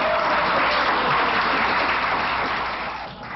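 Applause fills a Los Angeles city council chamber after a vote banning smoking in restaurants, a dense steady wash of many hands that fades slightly near the end.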